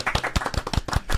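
A small studio audience claps briefly and sparsely, a handful of distinct, close hand claps in an uneven patter over about a second, thin rather than a full ovation.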